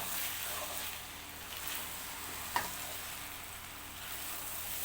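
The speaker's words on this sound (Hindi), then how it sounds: "तो ये देखिए मैंने इसमें मटर डाल दिए।" Green peas sizzle and fry in oil with minced meat keema, a steady close-up crackle throughout, broken once by a single sharp knock of a utensil partway through.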